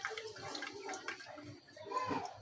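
Water draining from soaked poppy seeds through a tea strainer, a faint continuous trickle and splash with soft fluctuations, close by and low in level.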